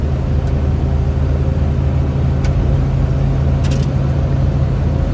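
Suzuki Samurai with a swapped 1.6L 16V engine cruising at around 60 mph, a loud steady engine drone and road rumble filling the cabin without a break.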